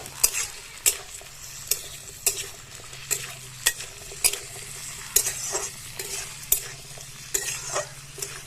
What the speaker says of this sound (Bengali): এরপর দিয়ে দিচ্ছি টুকরো করা আলু। আলুটা দুই একবার নেড়ে চেড়ে নেব।